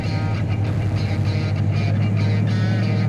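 A 1970 Pontiac GTO rumbles loud and close on a test drive, a deep, steady engine drone that stays unbroken throughout.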